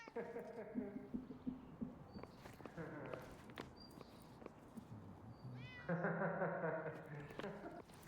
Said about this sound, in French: Ouais, il y a un chat.